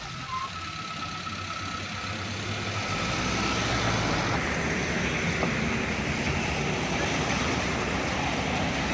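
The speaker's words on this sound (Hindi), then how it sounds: "अब हम दोस्तों गाड़ी को रोड पर निकालेंगे।" A car driving on a road in light rain, a steady broadband roar of engine and tyres on wet pavement that builds slightly and holds loud throughout, with no talking.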